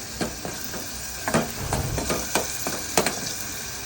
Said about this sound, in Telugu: కొంచెం జీరా పొడి, వేసుకుని దోరగా ఇలా వేయించుకోవాలండి.